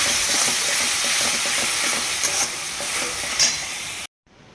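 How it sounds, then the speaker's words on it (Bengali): Spices and marinated chicken sautéing in a pan for a desi chicken curry, a steady dense sizzle with rhythmic scraping and stirring throughout, close and fairly loud, cutting off abruptly near the end. "এখানে মশলা কষাচ্ছি"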